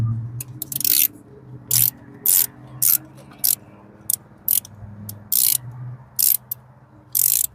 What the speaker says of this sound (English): take your short socket, and this is a 10mm, and we're going to go ahead and remove these 2 bolts right here